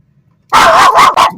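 A dog barks three times in quick succession at a man, loud and close, with short gaps between the sharp yaps, at a cruise port in Valdez, Alaska.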